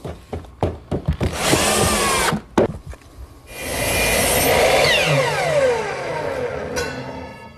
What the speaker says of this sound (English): attach it with some more screws